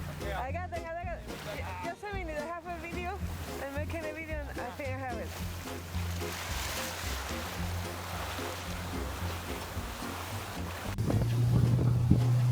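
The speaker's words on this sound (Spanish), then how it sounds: "Decidimos comenzar a seguirlos con la zodia." A zodiac inflatable boat runs through rough Antarctic sea, its motor droning steadily under gusting wind and splashing waves, growing louder toward the end.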